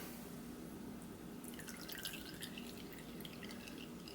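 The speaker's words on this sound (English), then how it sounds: "letting the excess drip off" Liquid clear coat drips steadily from a freshly dipped surfcasting fishing lure, producing a close, quiet trickle of small drops against a low background hum, with no talking.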